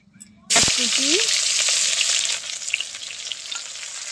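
Spices for a two-spice tempering drop into hot oil on a wood-fired clay stove while chicken curry is being made. A loud, steady sizzle bursts in after a brief quiet moment and carries on close by, with a faint voice near the start.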